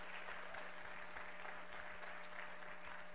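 Church congregation giving a clap offering of praise during a Sunday morning service, a continuous, fairly faint wash of applause from across the room.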